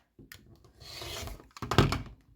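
Fabric for a quilt block being trimmed with a cutting tool, a close rasping cut lasting about a second followed by a louder scraping thunk, with no talking.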